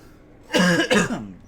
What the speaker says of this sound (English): can't get over this cough